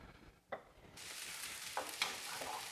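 Olive oil sizzling as it heats in a pan for sweating down vegetables, a steady broadband hiss rising after a brief pause, with a few faint clinks of utensils against the pan.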